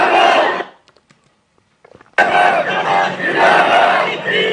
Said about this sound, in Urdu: آپ ذرا ایک اور کلپ دیکھیں اور یہ ذرا نعرے سنیں